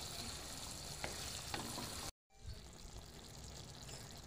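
Tangra fish curry sizzles and stirs in a pan, a steady crackling fry broken by a couple of soft scraping strokes, a brief cut to silence midway, then the frying continues evenly.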